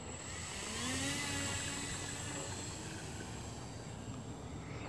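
A GWS Slow Stick RC plane on its maiden flight, its small electric motor and propeller giving a steady high whine over wind noise, moderately distant and continuous.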